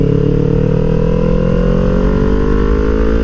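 A Kawasaki Ninja 400 motorcycle engine under way, with a loud, sustained droning hum that rises slowly in pitch as it holds high revs, heard up close with steady wind rush.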